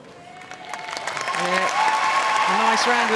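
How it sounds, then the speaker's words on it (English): Applause from netball spectators at the Samoa v Fiji 13th/14th place play-off of the 2019 Netball World Cup swells from sparse to full, with voices and tonal calls carrying over the crowd. "nice round of applause"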